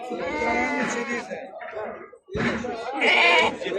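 Goats bleat in wavering calls at a livestock market selling sheep, goats and cattle, close and loud, several overlapping cries with a short pause in the middle.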